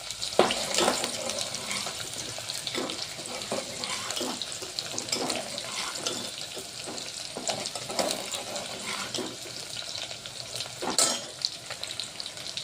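Onion frying in a pan until reddish for spicy shev bhaji, a steady loud sizzle with repeated scraping stirs throughout, close and continuous, no voices.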